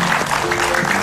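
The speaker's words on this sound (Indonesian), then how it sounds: "Kasih tepuk tangan sekali lagi buat Ustadz Maulana." Studio audience applause fills a television talk-show set, a dense, steady wash of clapping that is loud and sustained throughout the brief moment.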